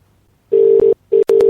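Telephone ringback tones on a call to a Vodafone mobile: loud, close electronic beeps in short repeated bursts with brief gaps, alone without voices.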